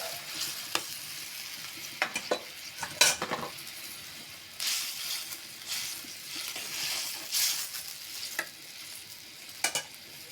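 Fried eggplant pieces being stirred into a simmering tuna fish curry in a pot, with bursts of scraping and clinking from a metal spoon over a low bubbling sizzle, close and quiet, no speech.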